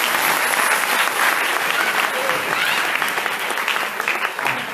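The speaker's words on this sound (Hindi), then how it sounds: "इसलिए आप इनके लिए जोरदार ताली बजाओ।" A dense, steady round of applause from an audience at a Srimad Bhagwatam discourse in Delhi, loud and continuous throughout with a murmur of voices mixed in.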